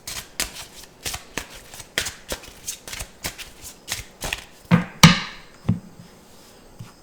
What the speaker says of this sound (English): Let's go ahead and get some tarot cards on this situation now.